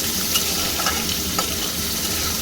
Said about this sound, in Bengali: এবার এই পেঁয়াজটা আমি লাল করে ভাজবো